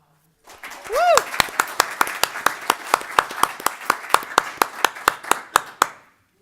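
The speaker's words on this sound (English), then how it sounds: "please have a round of applause" Applause at a college board meeting, one or two people clapping in a steady, evenly spaced rhythm for several seconds before stopping, close and fairly loud, with a voice briefly at the start.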